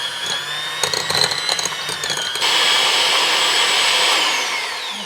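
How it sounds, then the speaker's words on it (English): An electric hand mixer fitted with regular beaters whirs through sourdough cinnamon roll icing. Clattering, uneven mixing comes first, then a steady, loud motor whine holds and tapers slightly near the end. "I'm going to take my hand mixer with the regular mixing things and kind of spin these around together"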